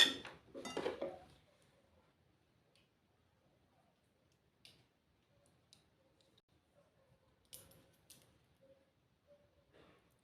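Metal pins pour onto a plate in a quick bright rattling burst at the start, followed by sparse scattered clicks and ticks of pins settling in an otherwise quiet room.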